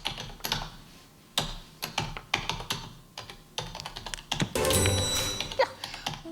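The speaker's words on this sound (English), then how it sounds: "Now, I'm going to play the sound of someone typing." Someone types on a keyboard in uneven bursts of close, crisp keystrokes, separated by short pauses and ending in a denser flurry with a heavier thunk.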